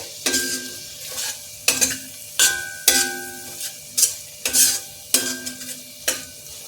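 Chicken curry with coriander and curry leaves being stirred in a pan, a regular series of loud spatula scrapes and clinks against the metal over a soft, steady sizzle.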